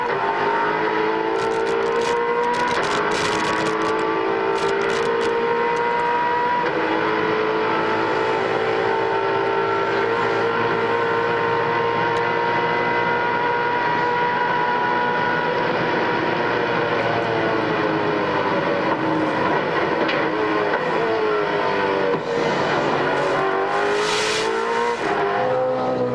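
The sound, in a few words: onboard Castrol Commodore race car engine at speed, Bathurst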